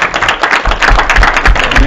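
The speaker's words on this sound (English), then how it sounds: "give him a round of applause" Audience applause during a Monday sales training session, a dense run of steady clapping lasting about two seconds, fairly loud and close with no talk over it.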